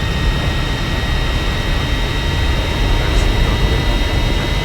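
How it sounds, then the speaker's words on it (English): A loud, steady jet roar from an FFA P-16 jet plane accelerating along a runway in a flight combat video game, a dense continuous whoosh with no talk. "Without all those bombs, this plane is actually really fast on the runway."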